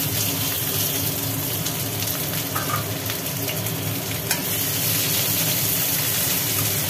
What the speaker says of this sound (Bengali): তেলের মধ্যে দেওয়া হলো পেঁয়াজ